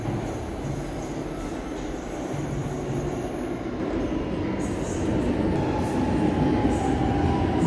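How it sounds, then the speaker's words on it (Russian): A metro train rolls past a station platform with a continuous, rising rumble of wheels on rail that grows louder toward the end. "Так, мне надо отойти, потому что поезд сейчас идет."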